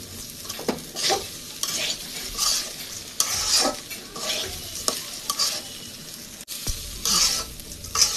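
Soybean chunks sizzle and fry in a pan, a steady crackling hiss broken by repeated scraping strokes of a spatula stirring them, close up with no talking.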